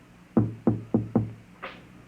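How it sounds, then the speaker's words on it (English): Four sharp knocks on a door in a vintage 1950s science-fiction radio drama, evenly spaced and close, followed by a fainter, softer sound, with no voices. "And then there was a knock on the door."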